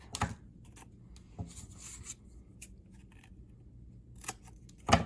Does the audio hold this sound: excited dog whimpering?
no